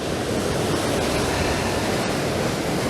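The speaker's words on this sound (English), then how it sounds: "This is Overstrand, which is on the Norfolk coast." Surf breaking along the shore at Overstrand on the Norfolk coast, a steady broadband wash of waves rolling in continuously, fairly loud and close, with no voices over it.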